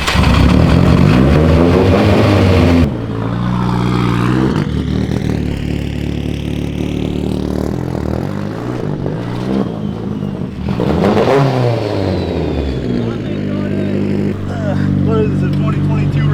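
A fully built Nissan 180SX engine revving hard while driving, loud and close, with rising and falling rev sweeps and brief lifts between pulls, while a person talks over it.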